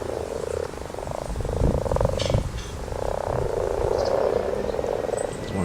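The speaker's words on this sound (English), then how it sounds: "About to do its croaking." Frogs croaking in a steady, dense chorus of rough, pulsing calls, fairly close and continuous throughout, with no voices.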